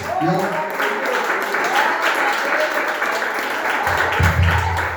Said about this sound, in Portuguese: Quem tem essa paz pode aplaudir ao Rei dos Reis.